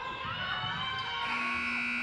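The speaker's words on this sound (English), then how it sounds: "They bank it in at the buzzer." Basketball shot clock buzzer at a girls' high school game, Lynn Classical versus Revere, a loud steady electronic tone sounding continuously over crowd noise in a gym, rising in pitch partway through.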